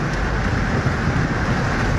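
Heavy rain pours during a flood in Jamaica, a loud, dense, steady hiss of downpour close by with a low rumble underneath and no talking.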